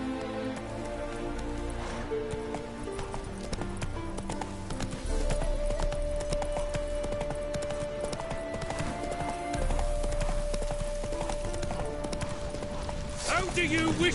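Roach, a horse in The Witcher 3: Wild Hunt, gallops with steady clip-clop hoofbeats over rain and background game music, and a sustained tone joins midway.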